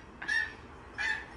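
Two short, nasal seagull calls are played from a device to catch a dog's attention, each a single bright squawk about half a second long, spaced roughly a second apart against a quiet room.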